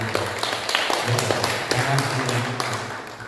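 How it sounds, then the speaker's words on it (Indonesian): Congregation applause at a church New Year 2025 service, scattered claps with sharp taps mixed in, heard under a voice speaking through much of it. "Tapi tepuk tangan luar biasa."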